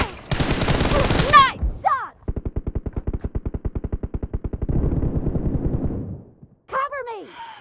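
Rapid automatic gunfire from a video game, a long steady burst of evenly spaced shots bracketed by heavier blasts and short dense volleys, loud and close, with brief quiet gaps between bursts.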